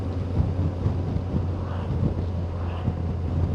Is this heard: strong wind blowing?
yes